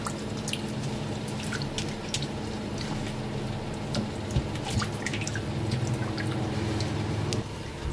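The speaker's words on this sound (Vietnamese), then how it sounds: "Sau đó thì các bạn xả sạch lại với nước bình thường cho mình một lần nữa nhé" Goose meat rinsed under running water in a kitchen sink gives a steady splashing stream with wet squishing and dripping, close and continuous.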